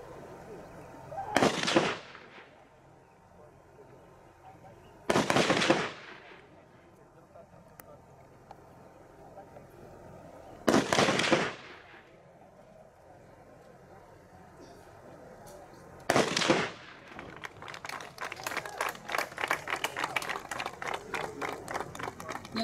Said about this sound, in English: barakoresha imbunda mu bwoko bwa AK-47 bararasira muri metero 80